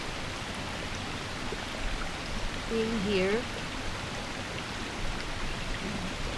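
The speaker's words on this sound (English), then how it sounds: "the stream, water." Steady broadband rush of a flowing stream beside a heather-lined path, a constant wash of water noise throughout with a person speaking softly over it.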